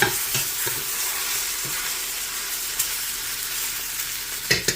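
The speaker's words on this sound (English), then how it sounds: "Go ahead and stir it." Beef stew being stirred in a frying pot: a steady, close sizzle with scraping stirring strokes throughout and a few sharper clinks near the end, no voices.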